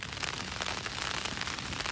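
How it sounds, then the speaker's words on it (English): Steady rain drums on a Mountainsmith Lichen Peak tent during an overnight stay in wind and near-freezing conditions, a dense continuous patter heard close and evenly throughout. "Still raining."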